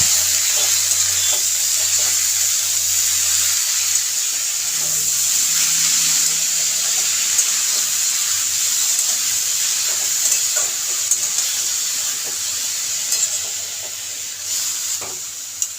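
Leafy greens sizzling and frying in a hot pan while being stirred, giving a continuous hiss with scattered soft clinks and scrapes of the utensil throughout.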